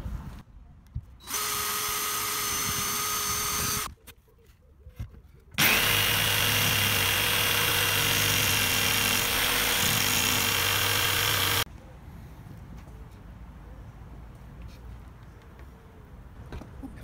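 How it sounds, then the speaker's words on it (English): A jigsaw cuts through a board during furniture building for a Mercedes Sprinter campervan, giving two loud, close bursts of harsh buzzing with a short pause between them, then quieter handling noise. "stick the jigsaw in and carry on"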